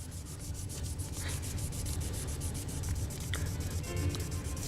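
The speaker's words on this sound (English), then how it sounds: "wrap a buffing rag of microfiber around it" Microfiber buffing rag wrapped around a hand tool rubbing over a painted riser spacer, a steady close scrubbing and rubbing texture with repeated strokes throughout.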